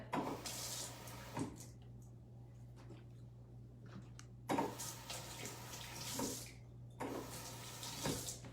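Tap water runs into a barbecue sauce bottle to rinse it out, coming in three bursts of gushing spray with quiet pauses and some soft handling noises between them.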